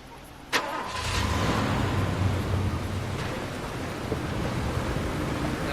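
A Jeep engine in the Far Cry 2 video game cranks with a sharp click, catches, and settles into a steady low idle rumble that runs loud and unbroken to the end.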